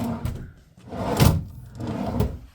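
A drawer in a hotel room is pulled open, giving a couple of short wooden scrapes and thumps that are close and moderately loud, separated by quiet pauses.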